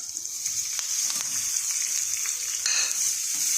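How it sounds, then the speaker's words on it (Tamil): Fenugreek, asafoetida, two dried red chillies and curry leaves are tempered in hot oil for eggplant gothsu. The oil gives a close, continuous bright sizzle and crackle, with a few sharper pops and stirring scrapes. "வெந்தயம் போட்டுட்டு கொஞ்சம் காயப்பொடி போட்டு 2 வரமிளகா போட்டு தாளிச்சுட்டு கருவேப்பிலை"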